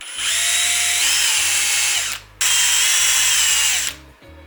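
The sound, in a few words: drill drilling out rivets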